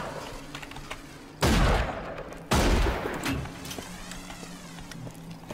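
Two loud, sharp bursts of video game gunfire crack out about a second apart, each trailing off, over a quieter background of game ambience and low hum.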